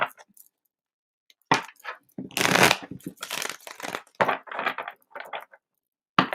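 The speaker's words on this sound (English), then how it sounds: "We'll get a couple more shuffles in to clear, and then we will get started." A deck of playing cards being shuffled, several crisp riffling bursts close by, separated by short pauses.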